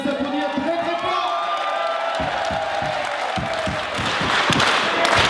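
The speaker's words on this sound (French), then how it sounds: "je vous demande de les applaudir très très fort" A crowd at a gathering applauds and cheers the volunteers loudly: dense continuous clapping with whoops and shouting voices, some rhythmic thumping joining in partway through, sustained and close.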